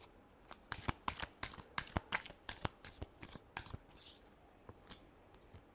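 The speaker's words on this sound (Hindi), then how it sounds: "Last shuffle." Tarot cards being shuffled by hand, a quick run of crisp slaps and riffles in an uneven rhythm, close and clear with no voice.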